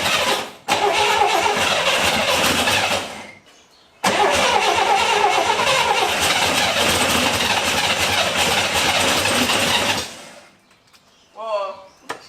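A barn-find Chevrolet Corvair, restarted after 17 years, cranks and fires, running loud and rough in two bursts split by a short gap, then dies away while voices exclaim.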